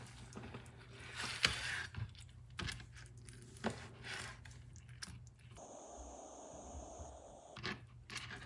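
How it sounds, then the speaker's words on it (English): Knife cutting raw beef tripe into pieces on a cutting board, quiet irregular chopping taps and soft slicing scrapes spaced a second or so apart, fairly faint with a low background hum. "I'm going to cut this baby into pieces"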